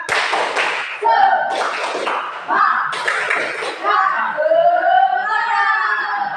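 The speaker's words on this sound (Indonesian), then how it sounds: "tepuk semangat dulu, tepuk semangat." A classroom of pupils performs a rhythmic spirit clap, several bursts of loud group clapping in quick patterns, with children's voices and chanting mixed in.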